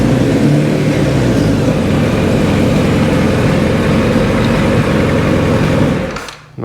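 A 1983 Kawasaki GPZ1100 motorcycle engine runs loud and steady at close range with a deep, even throb, then abruptly cuts off near the end.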